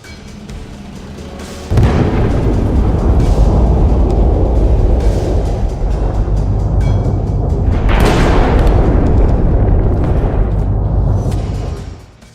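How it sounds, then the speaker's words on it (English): A Russian tank rolls forward firing its gun, then strikes a hidden mine and erupts into a fireball; a sudden heavy boom gives way to sustained loud rumbling blasts, with a second sharp burst partway through before fading. "a tank rolls forward, firing its gun. Everything seems fine, until it hits a hidden mine"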